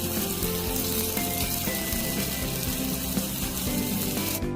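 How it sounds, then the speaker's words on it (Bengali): Spices for mutton kasha, including coriander powder and turmeric with a splash of water, cook in a pan with a steady, close, dense sizzle and bubbling that holds at an even level throughout. "মশলাটা আমি ভালো করে কষে নিচ্ছি বন্ধুরা"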